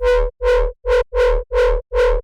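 Sine FM bass synth for drum and bass, its second oscillator frequency-modulated from oscillator A, playing six loud, buzzy, sustained notes in an even rhythm with short gaps between them.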